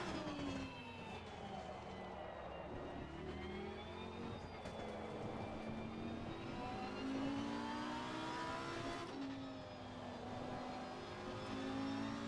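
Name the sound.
race car driving on racing line, video game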